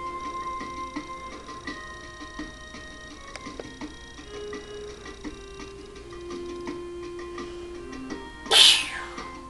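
A single short, sharp sneeze bursts out near the end, loud and close, following a stretch of quiet room tone with faint ticking and tonal background music during a belly dancing workout.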